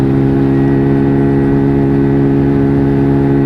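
WK Colt 50cc moped engine running steadily at about 29 mph on the road, a loud, continuous droning hum with a constant pitch and no speech over it.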